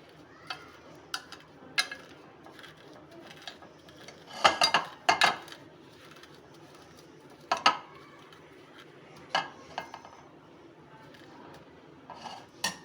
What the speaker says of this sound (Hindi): चम्मच की मदद से इसको हम दबा लेंगे